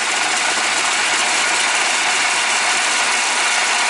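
A milling machine's auto feed runs steadily through a cut toward its travel limit, giving a loud, continuous broadband mechanical hum with no pauses and no voices.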